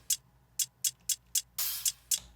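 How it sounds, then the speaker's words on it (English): Crisp hi-hat hits in a loose rhythm, short closed ticks with one longer open hiss in the middle, close and alone. "I also added an open hi-hat from Oshi's Care Package Volume 1."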